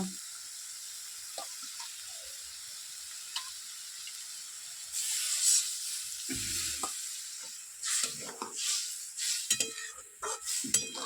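Water poured into dal cooking in a pan sets off a sudden loud sizzle and bubbling hiss, following a long quiet stretch of faint stirring, and then settles into uneven spitting and clinks.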